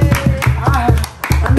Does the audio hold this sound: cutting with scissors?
no